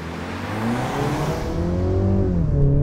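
A 2022 Mercedes C-Class all-wheel-drive hybrid launching hard, its engine note climbing steadily and smoothly as it accelerates, loud and close with a continuous rising drone and no talking.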